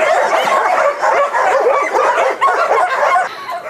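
A dog at an animal shelter gives a run of close, continuous yips, barks and whimpers, with no voices over them.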